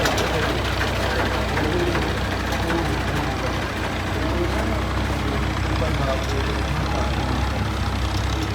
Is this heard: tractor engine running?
yes